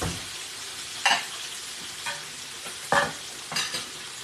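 Chicken tenders fry in hot oil in a home kitchen, a steady low sizzle broken by a few sharp bursts of stirring or spattering, close and fairly quiet, with no voices.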